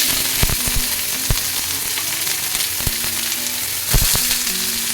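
Loud, steady sizzling of finely chopped onions frying in hot oil for dry fish thokku, with a few sharp crackles and pops scattered throughout.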